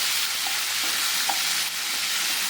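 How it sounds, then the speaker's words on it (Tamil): Onion, tomato, chana dal, urad dal and curry leaves sauté in a hot pan for curry leaf chutney, giving a continuous loud sizzle with a few soft stirring taps and no voices. "கருவேப்பிலை சேர்த்து சும்மா ஒரு ரெண்டு நிமிஷம் வதக்கினா போதும்"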